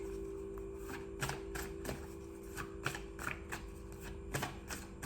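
Tarot cards being shuffled: soft repeated riffs and taps in an irregular rhythm, close and fairly quiet over a steady background hum, without speech.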